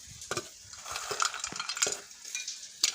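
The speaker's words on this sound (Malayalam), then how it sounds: "വണ്ടിപ്പരിപ്പ് ഇടാം" Cashew nuts tumbling into a pan and stirred while making rice and jaggery balls, with scattered light clicks and scrapes from a spoon and a faint sizzle, close and moderately loud with no talk.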